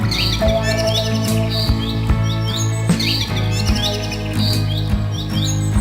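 A small bird chirps repeatedly in quick, bright tweets throughout, loud and close over a steady musical backdrop, with no one speaking.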